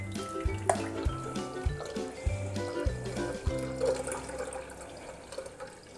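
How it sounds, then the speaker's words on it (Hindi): Homemade mint lemonade poured through a kitchen sieve into a jug, a steady liquid pour and trickle with soft clinks, continuous and fairly close with music underneath, no talking. "अब हम छन्नी से इसको छान लेंगे"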